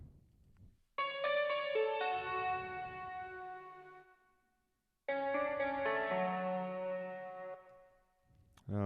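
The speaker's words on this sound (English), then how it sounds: "So next up is the piano," Piano notes from a Mellotron-style software instrument play in two separate soft phrases, each starting with a struck chord and ringing out with melodic notes, separated by a brief near-silence.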